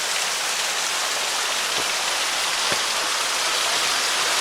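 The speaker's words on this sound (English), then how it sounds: "Waterfall." A steady, loud wash of rushing water, Hell's Hollow Waterfall in McConnell's Mill State Park roaring close by, constant and unbroken throughout.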